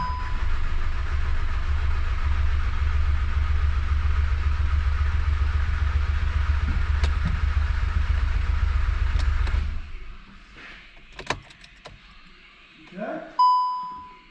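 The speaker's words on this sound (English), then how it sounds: "Okay, here we go for crank for oil pressure." A 750 bhp Cupra with its ignition coils disconnected is cranked over on the starter to build oil pressure, a steady loud churning drone lasting about ten seconds, then a few clicks and a short beep.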